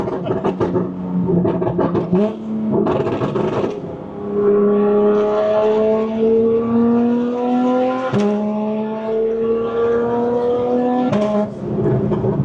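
A loud, close tuned car engine revs hard through several gears, rising in pitch each time, with sharp exhaust pops and cracks at every shift and downshift.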